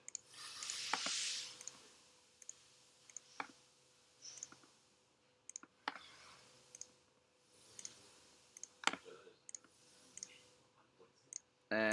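Sharp, close mouse clicks during freehand lasso work in Photoshop, scattered irregularly with single and double clicks over a quiet room tone.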